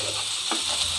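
Spices stirring in a frying pan for Bikrampur-style sak moshla, giving a steady, close sizzle with one brief scraping swipe of the spoon partway through.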